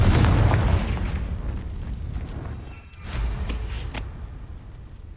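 A Confringo fire spell from a Harry Potter video game blasts out as a loud, close explosion with a heavy low boom that decays over a few seconds, then a second sharper burst near the end.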